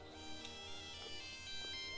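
A satellite phone in the Lego Jurassic World video game plays a soft electronic ringtone jingle in a quiet steady loop, its short melodic notes repeating faintly.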